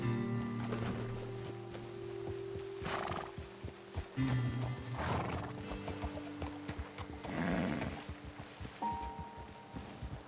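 Video game horses snort and whinny close by amid shuffling hooves, with a low sustained tone and scattered clopping throughout.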